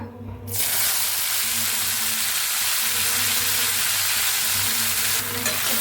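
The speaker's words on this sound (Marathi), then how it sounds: "आता मस्त तापलेला आहे बघा तूप बी आता हे त्याच्यात टाकूया हे मक्का" Corn kernels frying in hot ghee give a steady, loud sizzle and crackle that starts after a brief moment and continues without break, with no talk over it.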